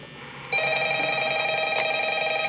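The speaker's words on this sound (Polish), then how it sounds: "odebrać telefon muszę" A telephone bell rings close by, starting abruptly and holding a steady bright electronic trill with a couple of brief surges, no speech over it.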